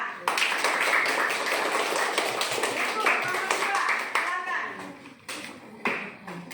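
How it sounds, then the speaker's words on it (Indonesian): Classroom applause for a student group, many hands clapping close by in a dense, steady patter that thins and breaks up toward the end, with children's voices mixed in. "tepuk tangan untuk kelompok berapa tadi?"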